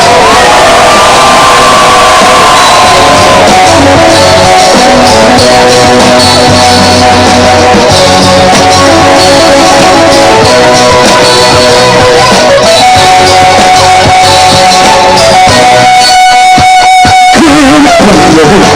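A packed crowd at a Korean peninsula peace rally roars and shouts over loud amplified music, the whole mix harsh, distorted and saturated, with chanting voices and tones blaring throughout.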